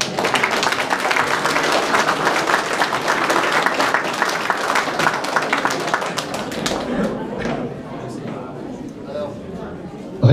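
Audience applause at a medal and diploma ceremony during the 2017 ducasse, a dense crowd clapping loudly for several seconds alongside murmuring voices, then fading into scattered claps and chatter.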